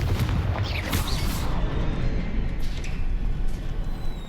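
A Confringo blasting spell explosion in the video game Hogwarts Legacy makes a heavy booming burst with rumbling low-end decay, loud and dense, with crackling debris sparks across the few seconds.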